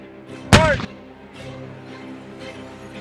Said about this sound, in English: It's quick to lay down covering fire for the Universal or Bren gun carriers that accompany it.